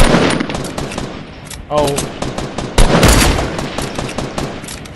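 Rapid gunshots from a Fortnite squad match on PS4 crackle loudly in quick succession, with a couple of heavier reports standing out; a player briefly exclaims over the firing.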